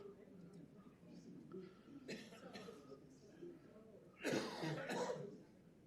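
A single harsh cough from a man with a cold bursts out loud near the end, after quieter throat noise and breathing in an indoor meeting room.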